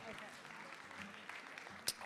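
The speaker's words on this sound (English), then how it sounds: "let's give a big round of applause for all those donors" Audience applause at the 2022 Night of Champions charity gala for the Crohn's & Colitis Foundation Arizona, honouring donors; a faint, steady wash of clapping heard at a distance with voices mixed in.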